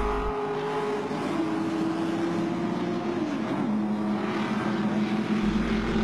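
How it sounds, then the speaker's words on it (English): Race cars at the 1978 Bathurst race roar past continuously, with engine notes rising and falling in pitch as they pass over the last hump of Conrod Straight, loud and close throughout. "It was amazing to see how fast the cars were coming over the last hump of Conrod."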